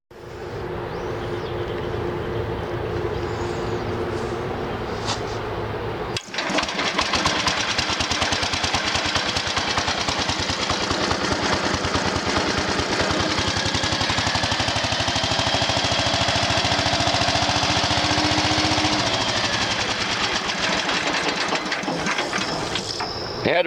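An old lawn mower with a Briggs & Stratton 16 HP engine and a faulty cheap import carburetor starts up and runs with a loud, steady, close drone and hiss. A quieter hum comes before it catches.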